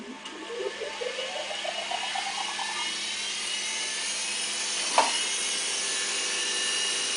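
A Studer A80 reel-to-reel tape recorder spins up to rewind with a rising pitch, then settles into a steady high-pitched bearing whine, with one sharp click midway.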